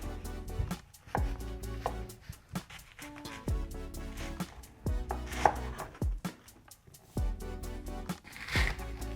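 A knife cuts through an onion on a board in a series of close, sharp chopping knocks at an uneven rhythm, with brief pauses between cuts and no speech.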